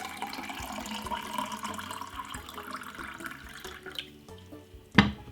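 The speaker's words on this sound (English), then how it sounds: "I'm gonna pour some water straight inside of this." Water poured into a drinking glass, a steady trickling splash that fades out, followed by a sharp clink of the glass being set down near the end.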